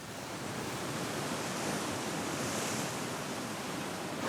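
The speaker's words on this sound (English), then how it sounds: "The wind is strong." Strong wind roars steadily at the sea in the Bazaruto Archipelago off Mozambique, a dense, even rush of broadband noise like surf and gusts buffeting the microphone, with no speech.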